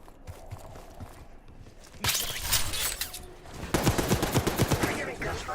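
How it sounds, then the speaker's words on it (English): Gunfire from the lower floors of a building in the Black Ops 6 video game campaign: scattered shots at first, then heavier bursts of rapid automatic fire that grow louder and more sustained toward the end. "Are you getting gunfire? Sounds like it's coming from one of the lower floors."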